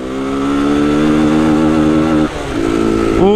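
An abandoned Honda Titan motorcycle engine runs with a loud, rough, buzzing idle that stumbles and dips briefly partway through, as if misfiring, before picking back up and rising at the end.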